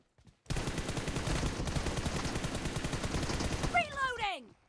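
Rapid automatic gunfire from a weapon in the mobile battle-royale game PUBG Mobile, a dense loud burst of shots lasting several seconds after a brief quiet start, followed by descending whistling effect tones at the end.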